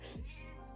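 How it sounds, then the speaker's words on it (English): A house cat gives a single short meow close by, a brief rising-then-falling cry over a quiet indoor room. "Oh my gosh, my cat."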